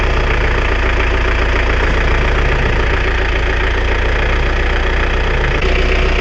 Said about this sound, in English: let me turn the engine off